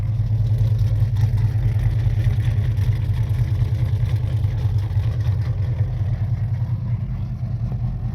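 A 1971 Plymouth Roadrunner with a 383 V8 and pistol-grip four-speed idles steadily, a low, even throbbing burble that holds a constant loping rhythm, close and alone with no talk.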